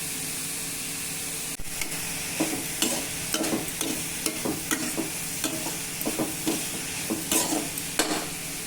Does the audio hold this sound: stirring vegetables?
yes